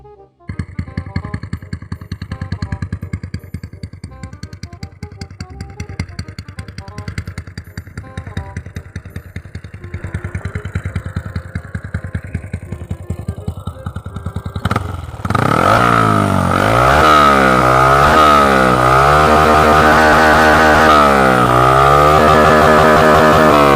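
A motorcycle with an aftermarket exhaust pipe idles with a choppy, rapid putter, then revs up into a loud, rasping roar with repeated throttle blips.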